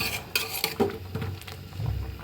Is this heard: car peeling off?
no